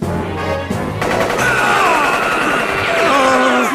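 Anime gunfire of Nen bullets from a Hunter x Hunter fight: loud, dense rapid-fire shots and impacts that roll into a sustained, whining barrage of energy blasts, with no clear speech.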